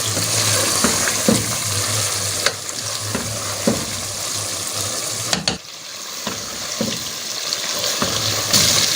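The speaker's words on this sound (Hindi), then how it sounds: "चिकन को अच्छे से भूनना है ताकि इसका जो सारा मसाला है वो अच्छे तरीके से पक जाए" Chicken and masala fry and sizzle steadily in a pot for a dhaba-style chicken chana daal, with a loud continuous crackle and occasional scraping stirs.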